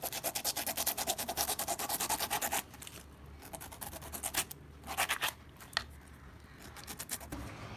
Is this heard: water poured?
no